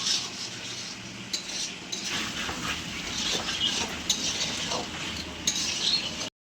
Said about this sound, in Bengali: এবার ঢাকনাটা খুলে খানিকক্ষণ কষে নেবো, যতক্ষণ না তেল বেরিয়ে যাচ্ছে।